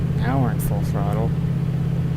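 A locomotive at full throttle in the Open Rails train simulator game gives a steady, low diesel drone that holds evenly throughout while someone talks over it.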